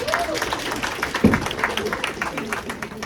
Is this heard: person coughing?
no